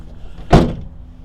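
A section of a 2019 GMC Sierra 1500 SLT MultiPro tailgate is pulled up, giving a single short, fairly loud mechanical clunk that rings out briefly against quiet outdoor background.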